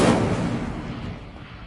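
An Incendio fire spell cast in Hogwarts Legacy erupts in a single loud, close burst of flame that whooshes and crackles, then fades away alone.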